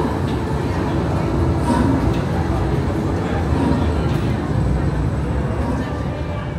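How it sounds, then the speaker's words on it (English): Hogwarts Express train ride at Universal Studios Orlando, a steady loud rumble of the moving rail car throughout with passengers talking over it. "One last time to Hogwarts Express."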